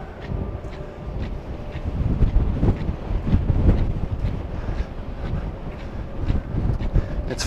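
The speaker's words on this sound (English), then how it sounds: "it seems to be windier towards the back of the ship than it is in the front of the ship" Strong wind blows across the back deck of a cruise ship, a continuous rumbling, buffeting roar that batters the microphone with gusting surges and no voices.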